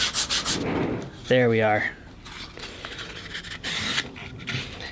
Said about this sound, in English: we're just going to sand the bevel in it